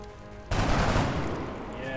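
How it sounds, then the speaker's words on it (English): Gunfire in the XCOM: Enemy Within video game, a sudden loud burst after a quiet lead-in, followed by a sustained rumbling rattle that slowly fades. "I'm gonna go ahead and just try to take a shot at him"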